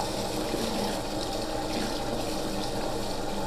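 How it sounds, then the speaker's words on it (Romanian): Water from a tap runs steadily, loud and close, over a Kawasaki ER6N BMC air filter being rinsed after washing with detergent, a continuous gushing splash with no talk. "acum o să-l clătim puternic cu apă"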